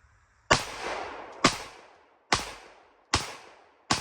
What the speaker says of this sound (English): Get a little mag dump as a treat from like 5 yards away.